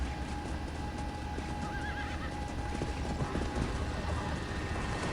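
A horse in the Red Dead Redemption Undead Nightmare video game gallops with rapid clip-clop hoofbeats and gives a brief whinny, set over a dense, noisy game soundscape with no voices.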